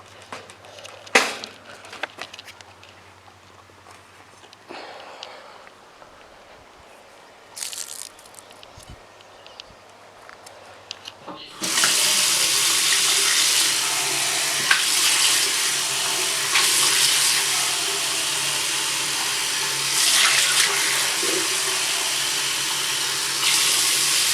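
Tap water runs to change a pet's water, starting abruptly partway through as a loud, steady splashing rush close by after a quieter stretch of faint handling noises.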